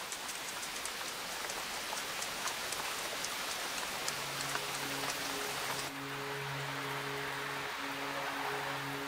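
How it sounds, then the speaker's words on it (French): Steady rain patters on surfaces throughout, in a very wet part of Australia. Partway in, a low, faint tonal hum rises beneath the hiss. "Il y pleut quasiment chaque jour."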